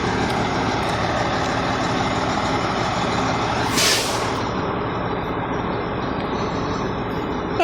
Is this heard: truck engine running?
yes